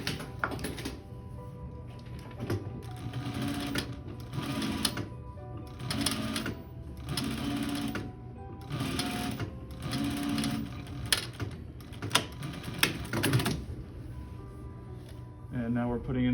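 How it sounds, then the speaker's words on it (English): A sewing machine runs in short bursts, stitching back and forth over reinforcing seams on a blanket coat, its rapid mechanical whir starting and stopping with brief pauses between passes, with some quiet talk around it. "now we're putting in those reinforcing stitches. Just going back and forth a few times"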